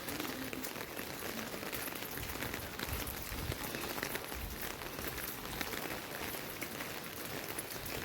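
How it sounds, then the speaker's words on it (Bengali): Steady rain falls outdoors on a morning that has been wet for hours, with a soft, even hiss of drops on surfaces, fairly faint and unbroken throughout. "আর বৃষ্টিটা সকাল থেকে শুরু হয়েছে,"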